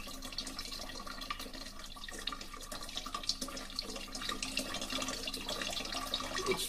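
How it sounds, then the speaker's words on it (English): Water runs steadily into the reservoir of a replica ancient Greek water clock, a clepsydra after Ctesibius, giving an even, continuous trickling flow close by with no talk. "The challenge was to keep the reservoir of the clepsydra full at all times."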